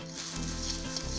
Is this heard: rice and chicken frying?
yes